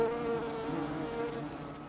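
Insects swarming at sweet sap oozing from a wound on a birch tree in late summer, a continuous close droning buzz of wings with a steady pitch, no voices.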